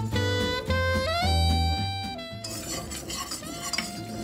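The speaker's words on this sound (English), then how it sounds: "All right, we're whisking that in." A whisk working liquid into a roux in a pan for a tuna dish, with rhythmic scraping and light clinking against the metal, close up, over a steady tonal background hum.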